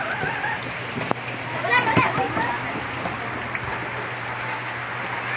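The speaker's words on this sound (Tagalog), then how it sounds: "Lakas ng ulan." Dense, steady patter of heavy rain on a surface, with people talking faintly underneath and a brief tap early on.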